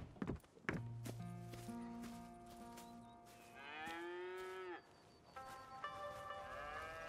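Several cows moo in long, drawn-out calls on a farm in the video game Red Dead Redemption 2, close and clear, with a few thuds and footsteps between them and no talking.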